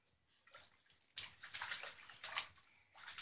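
A child splashes water in a bathtub, a quiet start giving way to a run of bursty, irregular splashes and sloshes that come in waves, fairly close and without talk.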